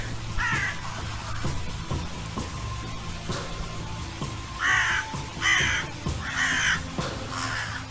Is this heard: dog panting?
no